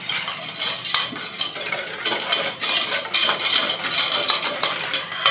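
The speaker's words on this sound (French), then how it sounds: "On prend le sucre, qu'on met dans le saladier, on casse un œuf, qu'on ajoute, on fait la préparation." Sugar and a cracked egg whisked together in a mixing bowl in a tea-room kitchen, a close, loud run of rapid scraping and clinking utensil strokes against the bowl, continuous and rhythmic with no talking.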